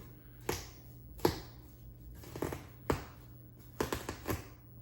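A knife cuts down the middle of a watermelon in a few sharp, separate cracks and crunches, close and fairly quiet against a hushed room.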